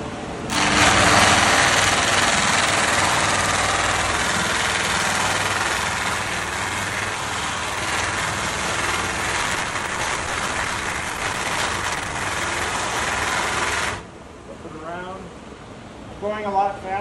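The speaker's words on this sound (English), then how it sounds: "going a lot faster, obviously, with this because I know I've already done the bulk of the sanding" A peeled aspen log is sanded with 150-grit paper, giving a steady, loud whirring rasp that runs for about thirteen seconds and then cuts off, leaving quieter background sound.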